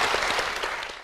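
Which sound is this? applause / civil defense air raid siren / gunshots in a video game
applause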